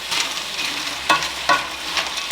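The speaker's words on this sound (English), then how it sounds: "while the pasta is boiling" Pasta cooks in a little leftover chicken stock in a pan, giving a steady bubbling sizzle with two sharper stirring scrapes partway through, close and fairly loud, with no talking.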